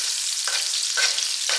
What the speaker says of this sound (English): Sauteing some aromatics at the start adds real depth to the final flavor.